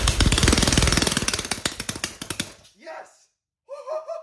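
A 3D printed 180cc engine fires up, its loud rapid pops hammering for about two and a half seconds before it cuts out, then a voice shouts excitedly.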